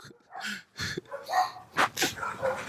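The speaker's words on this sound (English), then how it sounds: "don't get mad at the dog. That's how he talk." A dog barking nearby in a series of short, irregular yips and barks, loud and close with no talk.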